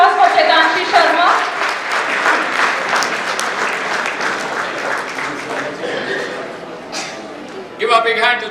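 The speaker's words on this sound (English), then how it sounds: "A big round of applause for Chetanshi Sharma." Steady audience applause fills a convocation ceremony hall, dense clapping over the full stretch, with a voice speaking briefly at the start and again near the end.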